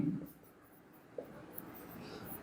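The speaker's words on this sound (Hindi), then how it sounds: "इसी पॉइंट को हम लिखेंगे" Pen writing by hand during a lecture, faint scratchy strokes with a couple of small taps, quiet and close in a calm room.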